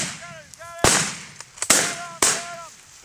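Three sharp, loud gunshots at uneven intervals while hunting roosters, with birds calling and squawking in between.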